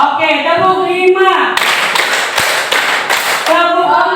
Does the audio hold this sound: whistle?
no